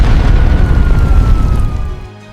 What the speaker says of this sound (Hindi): धमाका इतना भयानक था कि मील दूर तक आवाज गई।